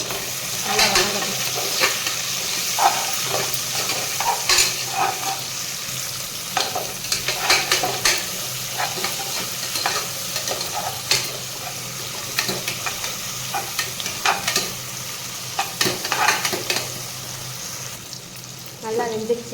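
One large tomato sautéing in a pan for tomato rice, giving a continuous close sizzle broken by irregular scraping stirs against the pan's surface, with no talking.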